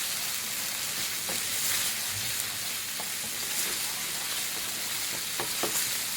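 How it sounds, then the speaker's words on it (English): Steady, dense sizzling of Thai green curry paste frying in a hot pan, continuous and close, with a few faint stirring clicks and no talking. "So we're only frying this off for 1 to 2 minutes."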